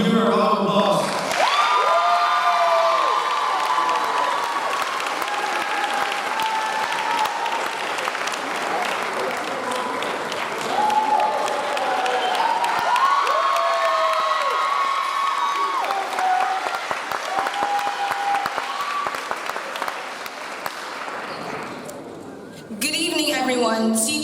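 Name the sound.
applause for graduation class speaker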